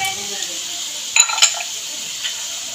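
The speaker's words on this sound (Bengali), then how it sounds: "নাড়াচাড়া দিয়ে ভালো করে একটু ভেজে নেব" Carrots frying in a pan give a steady high sizzle, broken near the middle by a few brief scraping strokes of stirring.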